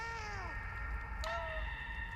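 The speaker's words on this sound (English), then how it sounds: "Oh no, he's meowing." In the video game Stray, a cat meows in a drawn-out, falling cry, with a second, higher meow coming in partway through over a soft steady game background, with no talking.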